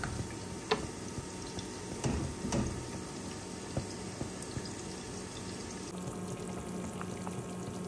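Chicken with jackfruit seeds cooking in gravy in a pan, a soft continuous sizzle and bubbling with scattered drips and small clicks, close and moderately quiet, and no one speaking.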